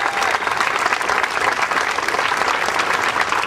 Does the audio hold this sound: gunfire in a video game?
no